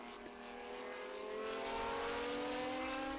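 Historic race cars at Estoril, including an under-2-litre Lola T298 chasing a Ferrari 512 BB racing version, roar past with rising, whining engine tones that swell louder toward the end, no voices audible.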